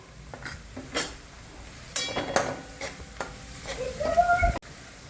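Ginger, garlic, turmeric and red chilli powder sautéing in a pan for pav bhaji, with a spoon stirring and scraping against metal, soft sizzling throughout and a few clinks from cookware.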